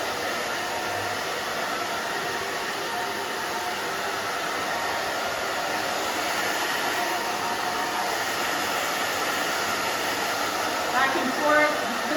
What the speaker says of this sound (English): Now we'll just dry the back down.